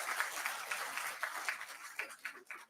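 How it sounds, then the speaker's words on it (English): An indoor audience claps steadily at a corporate talk, a dense, fairly even patter of many hands heard at moderate distance that thins toward the end. "the audience should clap for themselves"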